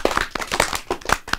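A school audience gives a brief round of clapping for a child's aims at a children's radio-on-TV programme, with a few close, uneven claps in quick succession, no talking.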